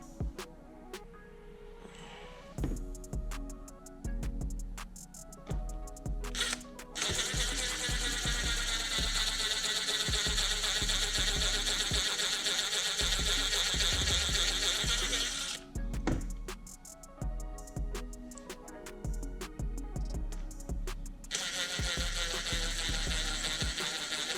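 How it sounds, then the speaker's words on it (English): A 1/8 inch drill bit boring holes, with long steady high-pitched drill whines broken by pauses and clicks, two main drilling bursts close to the microphone. "now I can go ahead and drill these holes out"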